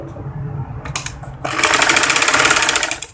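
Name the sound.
sewing machine stitching frock pieces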